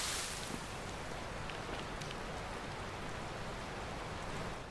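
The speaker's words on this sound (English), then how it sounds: "you can still hear the rain from inside. But it literally sounds quite realistic, you know, how it's sort of hitting the roof" Steady rain drums on a roof, heard from indoors in the video game Rising World, a soft even hiss with faint scattered patters throughout.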